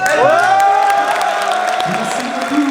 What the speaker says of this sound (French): Applaudissements pour Branck, s'il vous plaît, notre champion de cette compétition